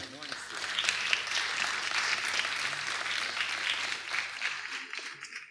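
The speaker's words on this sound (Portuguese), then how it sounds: "Estejam à vontade, podem aplaudir." Audience applauding at a book presentation during a literary festival in Madeira, a steady wash of many hands clapping in a hall, moderately loud and sustained throughout with faint murmuring underneath.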